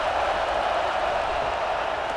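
Crowd noise in the College Football 26 video game fills a Florida vs Tennessee matchup as an even, continuous roar of a stadium crowd with a faint scatter of applause.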